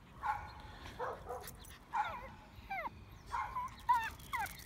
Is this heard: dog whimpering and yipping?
yes